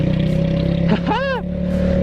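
Loncin Terminator 200 single-cylinder dual-exhaust motorcycle engine idling steadily up close, then a short, sharp throttle blip that rises and falls before settling back to idle.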